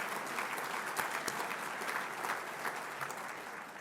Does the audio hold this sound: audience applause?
yes